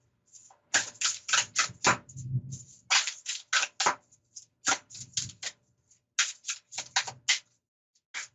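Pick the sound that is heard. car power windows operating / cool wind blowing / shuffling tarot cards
shuffling tarot cards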